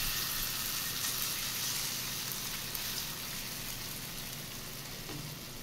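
Oats chilla batter sizzles in an oiled nonstick pan over low heat, a steady, faint, soft crackle that continues evenly throughout with no talking.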